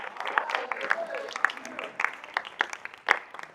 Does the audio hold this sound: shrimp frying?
no